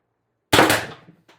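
An X-68 Storm Trooper blaster build double-firing: a loud, close burst of two shots merged together, a rattling decay, then a brief faint clack a moment later.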